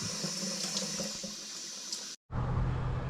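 An outdoor tap on a walking trail runs steadily into a water bottle with a continuous hissing splash, breaks off for a moment, then comes back as a fuller, louder rush of flowing water.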